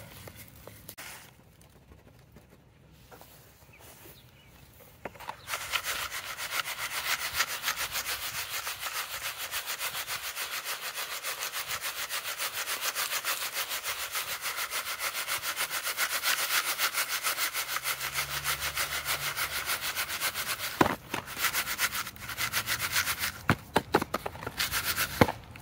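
A homemade Frankenmill crushes ore with a continuous grinding, rasping roar that starts abruptly after a quiet few seconds, then ends with a burst of sharp clattering knocks.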